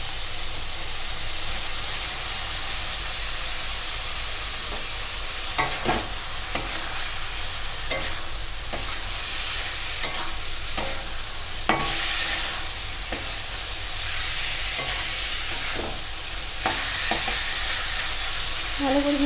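Taro stolons with dried fish (chapa shutki) frying in spiced oil and being stirred, a continuous loud sizzle broken by repeated scraping and clacking of a spatula against the pan.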